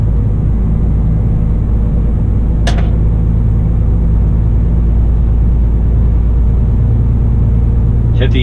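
A DAF XG+ truck engine pulls from inside the cab, a loud, steady low diesel rumble that holds constant throughout, with a couple of brief clicks from the cabin.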